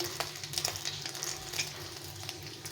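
Oil sizzles softly in a pan, a quiet steady hiss with a few small crackles and pops near the start. No one speaks.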